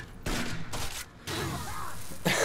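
Shotgun blasts ring out in the video game Rainbow Six Vegas 2: several loud, broad bursts separated by short gaps, with a final sharp blast at the end and no talk over them.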